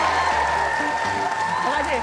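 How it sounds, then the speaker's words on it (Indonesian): Studio audience of an Indonesian comedy show applauding a person named Kimau, a brief loud burst of clapping mixed with voices and background music. "tepuk tangan lu buat Kimau"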